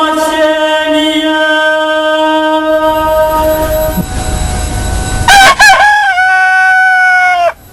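A rooster crows loudly and close, a long drawn-out call followed by a second rising, warbling crow, with no voices.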